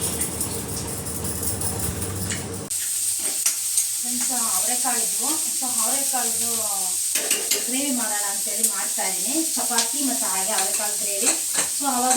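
Onions fry in oil with a continuous close sizzle, accompanied by occasional pan clinks, while a voice sounds over the frying for much of the time.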